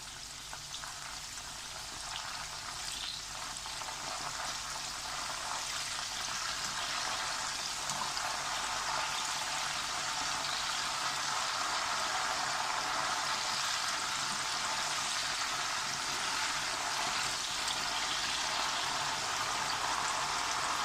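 Raw banana pieces for homemade chips fry in hot oil after salt water is poured in, producing a loud, dense, continuous crackling sizzle that holds steady throughout.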